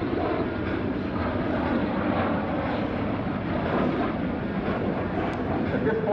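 Military jets roar continuously through a dogfight demonstration at the NAS Oceana airshow, a loud, steady engine drone with wind buffeting and no clear breaks.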